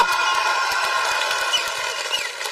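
A large crowd at a political rally in Barmer cheers and claps in a steady, dense roar. The noise is loud and continuous, with scattered shouts rising above it.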